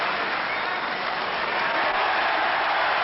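Snooker crowd cheering and applauding in a dense, steady roar of clapping that fills the hall at even loudness throughout, with no voices standing out above it.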